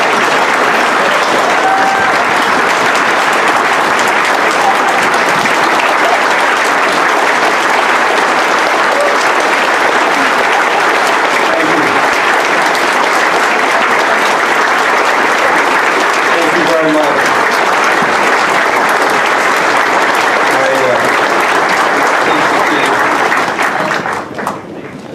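A large audience applauds to welcome Senator George Mitchell as grand marshal at a New York St. Patrick's Day parade reception, loud dense clapping sustained for about twenty-five seconds before tapering off at the end.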